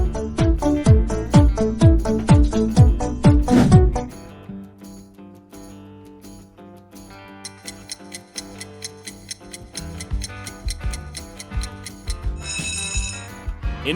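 Infinix smartphone ringtone opening with a fast cascading run of bright marimba-like notes, then settling into a lighter tinkling electronic melody with a steady pulse and a sparkling chime near the end, loud and alone.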